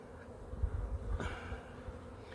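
Honeybees buzz at an open hive during an inspection, a low steady hum with no talk and a brief louder swell partway through.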